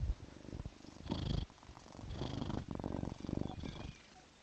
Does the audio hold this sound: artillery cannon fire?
no